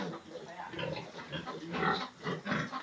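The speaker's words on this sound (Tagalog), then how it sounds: "Baboy pa mo." Pigs grunt and oink in concrete pens on a provincial piggery farm, a cluster of low, close grunts repeating in uneven bursts, with a person speaking faintly nearby.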